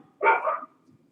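A dog barks in one short burst over an open phone line during a remote city council meeting, the sound slightly thin and compressed and followed by a quiet room.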